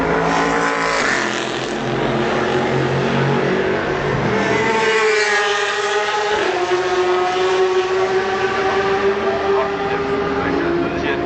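Toyota TS030 prototype race car at Le Mans during 2012 qualifying, its engine droning loudly with rising and falling pitch as it runs on the track, under continuous commentary.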